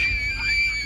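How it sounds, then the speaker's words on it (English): A sudden loud scream in a horror setting, a shrill sustained cry that holds steady at high volume for under a second. "A sudden loud scream sends the girls running in terror."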